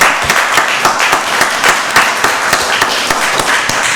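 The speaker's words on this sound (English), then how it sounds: "Give him a round of applause." An audience at a county board of commissioners work session breaks into sustained applause, a dense, steady clatter of many hands clapping at close range for the full stretch.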